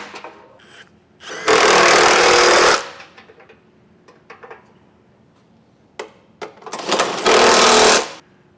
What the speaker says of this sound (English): Once you get all your hardware in place, we'll go back around and tighten everything up.